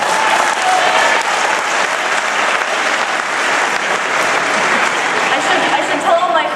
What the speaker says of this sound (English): You get applause just for being 13.